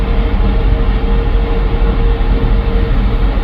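Steady low rumble of electric locomotive tugs hauling along rails at the Panama Canal locks, a continuous mechanical drone with a faint tonal hum, close and unbroken.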